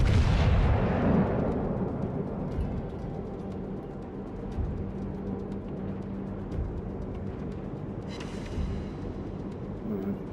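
Naval gunfire in the World of Warships game: a loud boom opens, followed by scattered dull impacts and a shell ricochet over a low rumbling ambience, with a sharper burst near the end.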